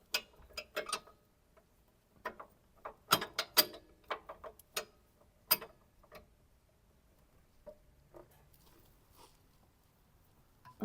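Wrench working the nut on a coilover of a 2007 Subaru WRX wagon, a series of close, sharp ratcheting clicks and metallic taps in irregular bursts with quiet gaps between them.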